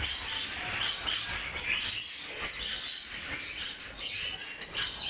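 Japanese society finches chirp and twitter continuously while being handled, a dense, busy mass of high tweets and rustling, close and fairly loud throughout.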